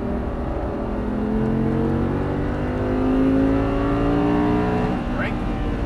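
An Audi R8 V10 accelerating on a race track at Exotic Racing in Las Vegas, its loud engine note climbing steadily in pitch, heard close from inside the car.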